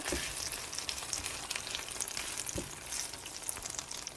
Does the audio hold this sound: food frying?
yes